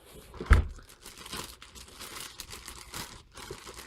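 Corsair Vengeance K70 keyboard packaging being opened, with crinkling and tearing of plastic and cardboard, a sharp rip near the start followed by steady rustling and crumpling close up, no talking.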